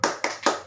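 A school class does a rhythmic spirit clap in a classroom, three sharp, close claps in quick even succession, with no talk over them.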